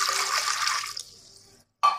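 One litre of water poured into a pressure cooker vessel, a close splashing gush that tapers off into quiet, followed by a short sharp clink.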